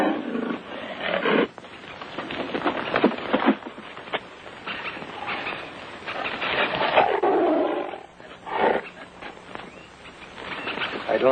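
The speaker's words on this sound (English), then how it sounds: "there's the growl of a cornered tiger." A cornered tiger growls and roars in bursts, close and loud, with rough snarling rising and falling over several seconds amid jungle ambience.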